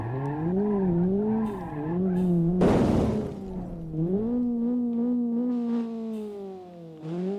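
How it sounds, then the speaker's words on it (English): In a driving game a car brakes hard and skids, its engine whining up and down in pitch as a loud burst of tire noise hits midway, then the motor keeps droning on. "Whoa, onto brakes, onto brakes"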